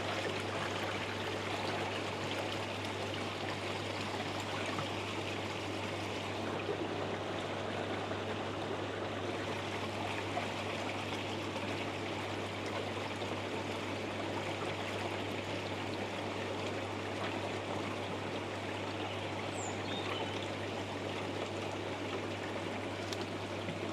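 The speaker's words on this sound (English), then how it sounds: "Just let this fill up again and then we'll run it through another clean cycle." Water runs steadily into an Evolution Aqua pond filter, giving a constant, even rushing trickle under a low pump hum, unchanging throughout with no talk.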